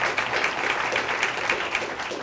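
A live audience claps to welcome two chefs at a cooking presentation, a brief, full burst of steady applause heard alone.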